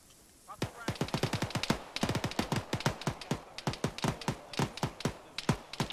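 Rapid gunfire from a squad engaging a compound in the military shooter ArmA 3, with dense bursts of sharp shots cracking in quick irregular succession for the full stretch, loud and close.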